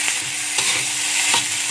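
Green chili fried rice with anchovies is stirred in a hot frying pan, a steady loud sizzle broken by a few scraping stirs of the spatula, close up.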